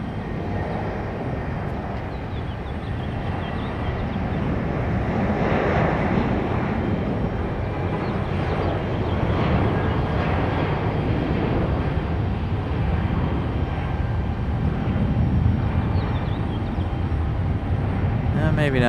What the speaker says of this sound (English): Our United 737 getting a move on. This is the 700.